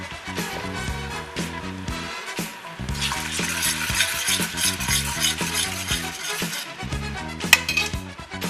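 Seasoning paste sautéing in olive oil in a pot for Jamaican curry chicken, a busy close sizzle with frequent metallic spoon scrapes and clinks against the pot, steady and fairly loud.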